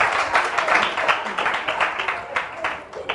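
Church audience at a gospel event clapping and applauding for a singer, a dense, steady patter of many hands with a few brighter bursts throughout.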